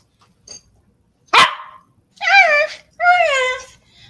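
A small puppy gives a sharp yip followed by two longer whining, howling barks, loud and close, with a faint bit of human voice at the start.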